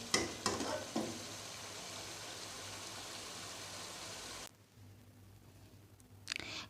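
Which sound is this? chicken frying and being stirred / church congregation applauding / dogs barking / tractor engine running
chicken frying and being stirred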